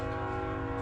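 A train horn sounds as one loud, sustained, even blast that holds steady throughout the short clip.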